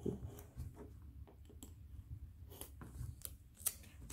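Scissors cutting paper for a photo album, a series of close, crisp snips and paper rustles spread unevenly over several seconds.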